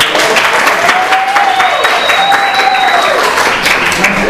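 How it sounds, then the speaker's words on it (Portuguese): A burst of audience clapping, dense and steady for several seconds, with faint whistles rising over it. "dá um aplauso aí pra essa moça"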